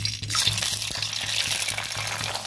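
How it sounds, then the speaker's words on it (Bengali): An egg cracked into hot oil in a pan sets off a close, continuous bright sizzle with fine crackling and small pops, heard on its own without speech. "তেলটা গরম হয়ে গেছে, এবার ডিমটা ফাটিয়ে দিয়ে দেবো।"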